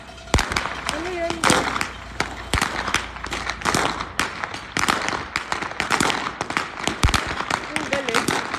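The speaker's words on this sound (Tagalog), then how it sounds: "Nakakatawa yung paputok nila." Firecrackers go off in Romania in a rapid, irregular string of sharp cracks and pops, some close and loud, with people talking in between.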